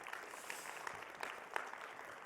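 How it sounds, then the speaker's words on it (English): A church congregation claps steadily from start to finish, with a few sharper individual claps standing out from the even, moderately distant applause. "Let's give them a round of applause."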